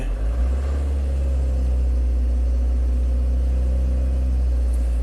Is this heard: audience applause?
no